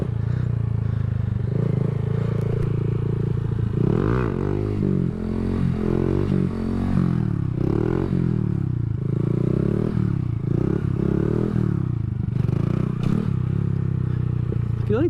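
A Honda Grom motorcycle revs continuously through sit-down circle wheelies, its engine note rising and falling in waves, loud and close throughout with occasional scraping.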